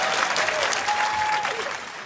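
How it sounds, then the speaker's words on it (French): Brief applause from a comedy show audience, mostly women clapping, a close, steady patter lasting about two seconds with a faint voice passing underneath. "Je sais pas comment je vais prendre ces applaudissements,"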